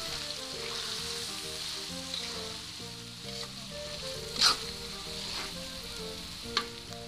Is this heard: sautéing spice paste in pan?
yes